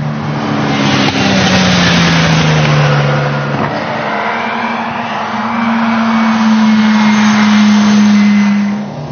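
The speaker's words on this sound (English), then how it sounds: "The Miura actually handles quite well. It corners quite flat, and it's got wonderful grip for a car of the 1960s." A 1960s Lamborghini Miura sports car being driven, its engine a loud, close, steady drone that shifts pitch as the revs change, with a gear change partway through and the note held and rising afterward.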